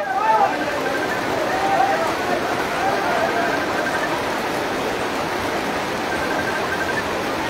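Rain falls steadily in a village home as people talk over the continuous wash of water.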